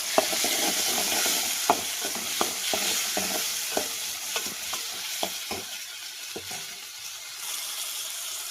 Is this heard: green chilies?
yes